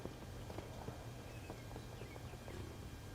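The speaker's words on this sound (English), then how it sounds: "we've got our Royal Guard Cavalry. Bone boys on bony horses." Steady clip-clop of skeletal cavalry horses from Total War Warhammer 3, a dense, continuous patter of hooves under a low rumble, moderately distant and with no talk.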